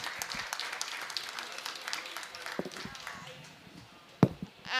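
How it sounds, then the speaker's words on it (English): Scattered applause from a conference audience after a panel on value chains and inclusive markets, uneven clapping that thins out toward the end, with a few louder knocks and shuffling noises. "Round of applause for this panel, please."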